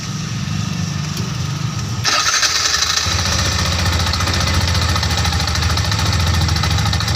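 A carburetted Rusi RE Badja 200 motorcycle engine starts up and then runs steadily at a loud idle, a constant low rumble with a rattling mechanical chatter throughout.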